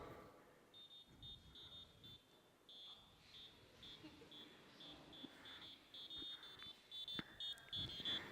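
Faint, high electronic beeps from a smart bag alerting to a forgotten phone repeat in quick bursts over a quiet, rustling background.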